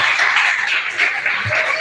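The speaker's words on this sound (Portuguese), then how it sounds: "mais palmas e glória a Deus" Church congregation applauding at a Wednesday evening service, a steady wash of many hands clapping together for under two seconds, fairly loud and even throughout with no voices standing out.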